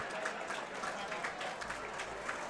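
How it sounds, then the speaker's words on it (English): Applause from a crowd for two MMA fighters after a first-round submission in a cage at Crystal Gardens, steady and moderately distant, with talk mixed in. "please put a big round of applause together for both of the fighters in this cage"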